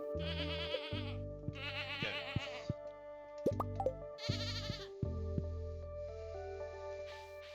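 Several quavering goat bleats in Stardew Valley repeat in short bursts over a steady musical backdrop, with soft plopping and clicking effects between them.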